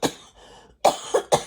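Three sharp coughs from one person close by: a long rough one, a short pause, then two quick harsh coughs in succession.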